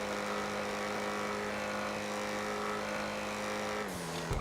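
Mercedes Class A racing in GTA 5, engine droning at steady high speed with a sustained tonal whine that drops in pitch near the end, followed by a brief skid and bump.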